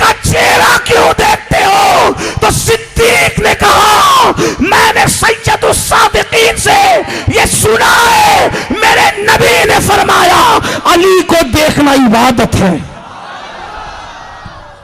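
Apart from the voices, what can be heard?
crowd chanting religious slogans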